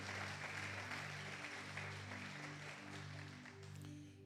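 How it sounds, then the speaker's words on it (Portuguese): Congregation applause at a family worship service in church, a broad steady clapping wash under sustained organ or keyboard chords, moderately loud and continuous. "Você pode aplaudir o Senhor?"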